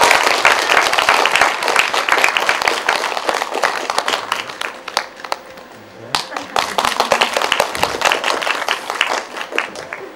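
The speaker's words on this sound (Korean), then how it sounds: "박수로 함동균 선생님 모셔보도록 하겠습니다" Sustained audience applause greets a guest lecturer at a Korean literature talk on the poet Yi Sang, dense clapping filling the room with a brief lull midway before swelling again.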